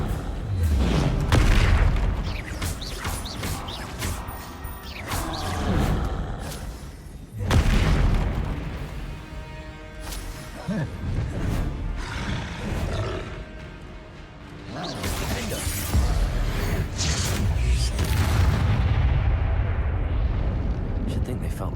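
Explosive Confringo spell blasts in the video game Hogwarts Legacy, loud booming bursts with roaring rumble that swell and fade several times in succession, with game music and effects layered underneath.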